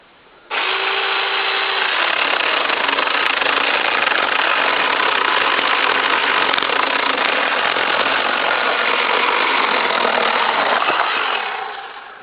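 A cordless saw cuts through a log about 65 mm thick in one loud, steady, continuous whine that starts abruptly, holds for roughly ten seconds and then tapers off, with no voices.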